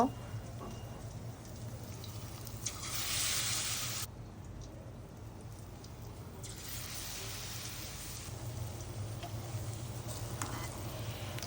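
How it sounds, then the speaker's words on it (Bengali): Slices of boiled egg dipped in batter sizzle in hot oil, a steady crackling hiss close by that flares louder for a moment as pieces drop in, with a voice speaking over it. "এখন আমি যে কেটে রাখা ডিমগুলো আছে স্লাইসগুলো এগুলো এই যে বাটার মধ্যে চুপিয়ে চুপিয়ে তেলের মধ্যে দিয়ে দিব"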